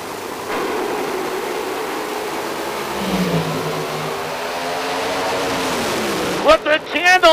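Nitro funny cars at an IHRA drag race, a loud sustained engine roar that swells and shifts pitch as they run down the strip, ending in sharp bursts.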